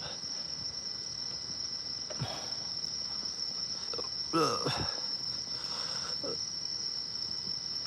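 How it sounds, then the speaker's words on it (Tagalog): Steady high-pitched cricket chirping at night runs throughout, a constant shrill drone at moderate level, with a few faint rustles and brief murmurs underneath. "Kuliglig lang yung naririnig ko"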